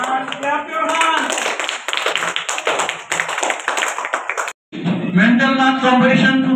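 A crowd applauds at a school competition prize announcement, brisk clapping for several seconds, a brief gap, then a voice speaks loudly into the microphone.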